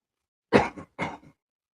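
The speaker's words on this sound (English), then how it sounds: "Let me clear my throat." Two short coughs in quick succession, the second more like a throat clearing, close and alone in silence.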